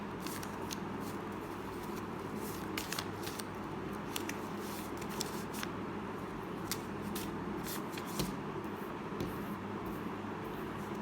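A tarot card deck is shuffled by hand, giving faint, scattered papery flicks and soft clicks over a quiet background hum.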